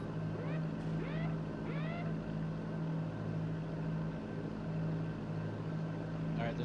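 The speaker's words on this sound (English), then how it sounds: "It's that motorboat coming around the corner." A motorboat engine in a combat video game, a steady low drone holding throughout, with other game sounds over it.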